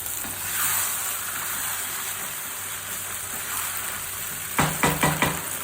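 Chicken korma sizzling and frying in a pan over a high flame, a steady close hiss throughout with a few sharper stirring bursts near the end.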